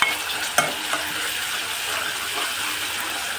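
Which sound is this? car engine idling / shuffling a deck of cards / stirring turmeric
stirring turmeric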